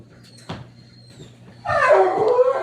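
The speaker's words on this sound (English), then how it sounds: "that's the dog in the background" Dog barking and whining in the background indoors, a sharp thump early on followed by a louder stretch of yelping, whimpering dog sounds near the end.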